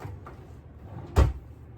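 A drawer full of embroidery floss slides open with a single short wooden clunk, standing out briefly against a quiet indoor room.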